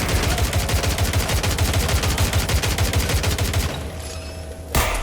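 Rapid automatic gunfire in Watch Dogs: Legion rattles in a loud, steady stream of closely spaced shots for several seconds, then breaks off, leaving a quieter tail and one last sharp crack.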